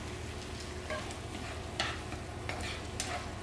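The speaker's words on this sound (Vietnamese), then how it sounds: "Tiếp tục xào." Vegetables and octopus stir-fried in a pan, with a steady sizzle broken by several scraping stirs of the utensil against the pan, close and continuous, with no talking.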